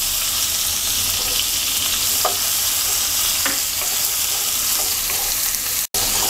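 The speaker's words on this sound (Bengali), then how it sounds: "পেঁয়াজটাকে হালকা ভেজে নেব।" Chopped onions and whole cumin seeds fry in hot oil for a shrimp, potol and potato bhaji, giving a steady, close, dense sizzle with faint stirring clicks throughout and a brief dropout near the end.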